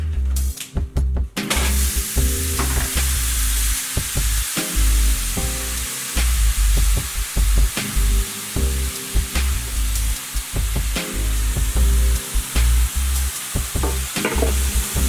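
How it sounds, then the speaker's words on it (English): Ground turkey sizzles and crackles steadily in a hot skillet, a loud continuous frying hiss broken by stirring scrapes and clicks throughout, with no talking. "if you don't hear that sizzling sound, then that means your pan ain't warm enough."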